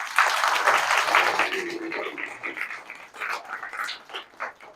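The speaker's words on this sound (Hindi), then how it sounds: "दीदी के लिए ताली बजाओ।" Schoolchildren clapping together at school, a loud burst of applause that starts dense and then thins into scattered claps, with voices mixed in.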